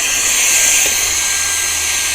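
A very small handheld vacuum cleaner runs continuously, a thin, high-pitched motor whine with steady airflow hiss, close and unvarying.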